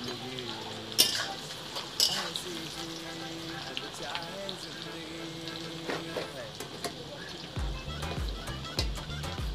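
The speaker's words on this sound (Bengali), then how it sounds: "তেলটা গরম হয়ে গেছে ভালোভাবে, এবার তেলের ওপর আমি দিয়ে দেবো পেঁয়াজ।" Chopped onions dropped into hot oil in a home kitchen, sizzling softly with a few sharp clinks of a utensil against the pan and quiet stirring.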